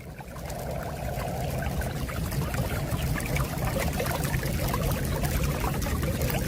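Flash flood water discharges from the leach line of a DIY French drain, a loud, continuous pouring and splashing gush that holds steady throughout with no talk.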